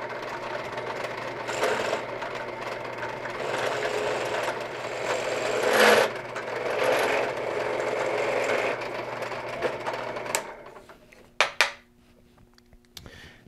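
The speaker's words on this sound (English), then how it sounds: "as long as I get this countersink into the center of the hole, I'm going to let this loose a little bit and it'll find its own center" A five-bladed countersink bit cutting into the bridge pin hole of a steel-string acoustic guitar bridge, a steady whirring grind lasting about ten seconds before stopping, followed by a few sharp knocks.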